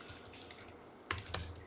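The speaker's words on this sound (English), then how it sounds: "my typing is atrocious." Quick, light keystrokes on a computer keyboard, a short burst of a dozen or so taps with a brief pause and then a faster cluster, close and quiet.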